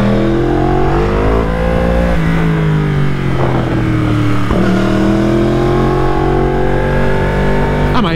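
A Yamaha R1 sport motorcycle on a racetrack revs loudly and continuously, its engine pitch climbing and dropping through gear changes with a steady, throaty drone close to the rider.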